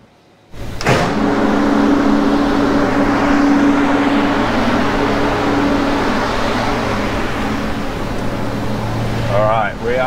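A BMW 335i runs bolted to a running dyno, its engine a loud, sustained drone with steady tone from the first second onward, with no clear pauses.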